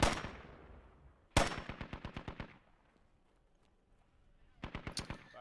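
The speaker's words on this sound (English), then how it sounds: "plenty of gunfire coming from the insurgent side" Gunfire in the military shooter game Squad, with insurgents firing a DShK heavy machine gun: rapid automatic bursts of evenly spaced loud shots with echoing tails, separated by a quieter pause, then a final burst.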